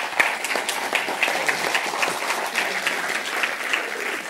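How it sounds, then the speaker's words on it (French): An audience at a conference applauds the organisers' work with a continuous, moderately loud patter of many hands clapping, with a steady, slightly pulsing rhythm. "Je vous demanderai s'il vous plaît de les féliciter en applaudissant leur"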